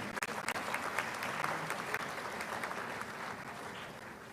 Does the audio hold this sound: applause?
yes